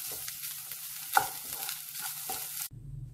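Fried cashews, raisins and grated coconut stirred in a pan for a traditional Kerala sweet snack, a steady scraping and soft frying rustle with a few sharper utensil knocks, cutting off abruptly near the end.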